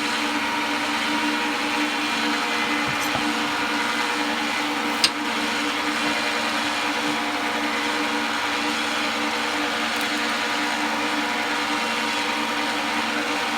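An old wood lathe runs at a steady, loud mechanical hum and whir, with a couple of brief clicks and knocks over the continuous drone.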